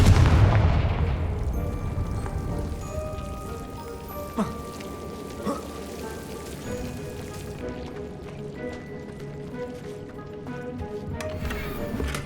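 A Confringo fire spell blast in the video game Hogwarts Legacy opens with a loud booming burst. It fades into a crackling, rain-like rumble with a few small pops afterward, and no voices are heard.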